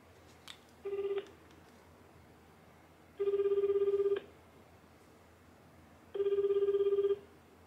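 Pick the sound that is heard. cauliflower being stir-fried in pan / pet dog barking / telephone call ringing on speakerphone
telephone call ringing on speakerphone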